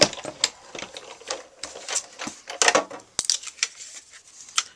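A die-cutting machine for crafting rolls a card through, giving an uneven run of sharp clicks and clattering ticks, close and fairly loud, with brief pauses between bursts.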